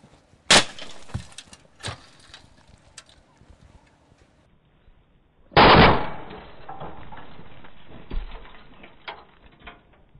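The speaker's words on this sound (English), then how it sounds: "we'll set the trap off, which will close around the leg" An animal trap is triggered and snaps shut, with sharp loud cracks near the start, then a heavy metallic clack and a sustained rattle, followed by faint ticks and knocks.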